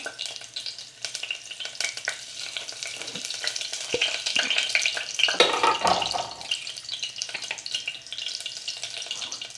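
Cumin seeds sizzle in hot oil for a whole-cashew, tomato and paneer curry, a loud, steady crackling hiss with a brief swell of spitting about halfway through.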